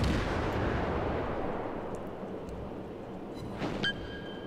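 Naval guns aboard the cruiser Erie fire in World of Warships, a deep artillery boom opening the moment and rolling off into a long rumbling decay, with a faint sharper report near the end.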